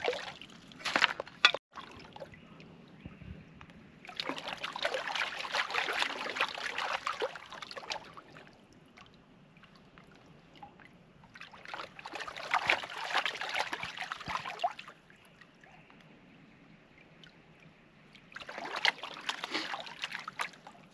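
While gold prospecting, a sample is panned by hand: water sloshes and swirls in three separate bursts a few seconds long, with quieter trickling and background noise between them.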